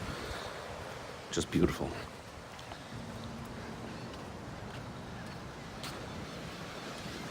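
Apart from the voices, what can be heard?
ocean waves crashing on beach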